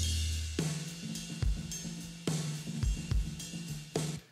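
Drum kit playing a groove, high-passed to strip the bass drum's low end and sent through an artificial room reverb, with sharp hits at irregular intervals, each trailing into a washy ambience.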